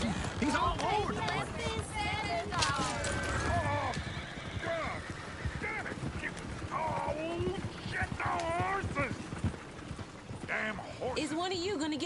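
Horse-drawn coach galloping in Red Dead Redemption 2, with hoofbeats clattering and horses whinnying and squealing while characters talk over the commotion throughout.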